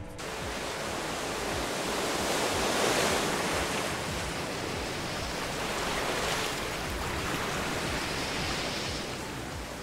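Ocean waves at the beach roll in as a broad continuous wash of surf, swelling and easing slowly over about ten seconds, fairly loud, with some wind rumble on the microphone and no talk.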